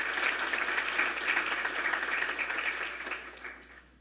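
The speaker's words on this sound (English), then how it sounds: "I just want to all give yourselves a round of applause" Audience applause at an education convening, a steady broad wash of clapping from a large room that tapers off toward the end.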